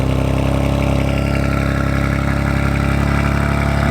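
A BMW M2 idling just after start-up, a steady close mechanical hum with an even low throb and no change in revs.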